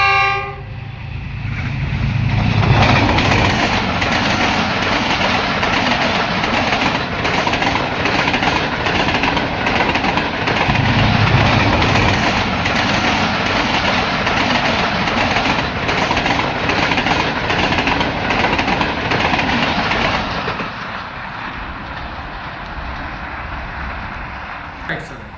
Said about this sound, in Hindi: इंतहाई स्पीड 7 अप की पास थ्रू कर रही है इस वक्त काला शाह काकू रेलवे स्टेशन को